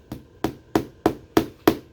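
A small hammer drives nails into a wooden frame with six sharp, evenly spaced blows, each strike louder and ringing slightly, heard up close with no talking.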